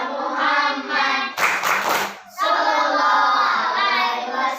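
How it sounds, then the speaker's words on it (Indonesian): Rhythmic group clapping of tepuk sholawat during an Islamic teacher-training session, sharp hand claps in a steady pattern alongside singing voices, close and loud, pausing briefly midway before resuming. "Yuk kita membaca sholawat bersama-sama. Tepuk sholawat"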